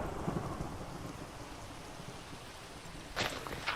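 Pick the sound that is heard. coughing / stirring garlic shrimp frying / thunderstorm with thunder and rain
thunderstorm with thunder and rain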